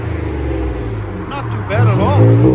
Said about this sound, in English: That BORLA XS gave it that deep tone without a lot of raspiness.